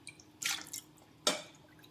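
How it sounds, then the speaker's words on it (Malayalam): Strained salt water is poured by the ladleful into mango pickle, giving two short splashing pours close by, with a quiet pause between them. "ഇനി ഇതിലേക്ക് നമ്മൾ ഈ അരിച്ചു വെച്ചിട്ടുള്ള ഉപ്പ് വെള്ളമാണ് ഒഴിച്ചു കൊടുക്കുന്നത്"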